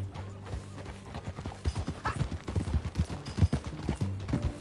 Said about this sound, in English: Is that a new horse?